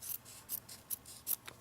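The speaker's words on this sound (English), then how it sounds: "I found that these little scissors," Curved scissors cut through fabric for a tuck ornament, making about five crisp, close snips in a loose rhythm with no talking.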